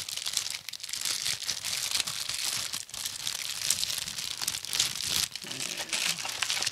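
Plastic wrapping crinkles and crackles steadily as a 1/144-scale B-29 Enola Gay model kit box is unpacked; dense, close rustling with brief pauses and a faint voice in the background.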